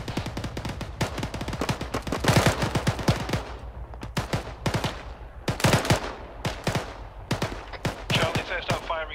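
Rapid bursts of machine gun fire in an Arma 3 military firefight, loud sharp volleys repeating in clusters across the whole stretch with brief gaps between strings of shots.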